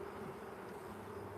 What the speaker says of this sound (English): The bees are pretty angry right now.